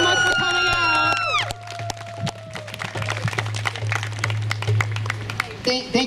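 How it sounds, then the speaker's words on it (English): Crowd noise and scattered clapping from an outdoor rally audience, with voices talking and calling out over a steady low hum, ending in a brief burst of louder noise. "Let's give Elise one more round of applause, and a round of applause for everybody for attending today."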